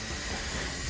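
A steam locomotive vents a continuous broad hiss of steam, steady and fairly loud throughout, with no speech over it.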